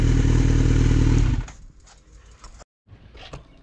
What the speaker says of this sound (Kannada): ಪ್ರಥಮ ಬಾರಿಗೆ ಸೂಪರ್ ಬೈಕ್ ಒಂದು ಸಣ್ಣ ರೈಡ್ ಮಾಡಿದ್ರು